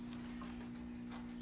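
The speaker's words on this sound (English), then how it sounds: "Chirp went the cricket." A cricket chirps in a steady, rapid pulsing trill, quiet and continuous against a soft background hum.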